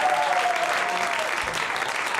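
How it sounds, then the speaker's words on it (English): Audience at a comedy show applauding in a dense, sustained wash of clapping with a few cheers, steady and fairly loud while a voice speaks briefly over it. "Give yourselves a big round of applause."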